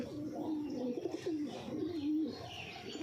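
Pigeons cooing at a loft, a steady low warbling coo rising and falling close by, with a few faint chirps over a continuous flock murmur.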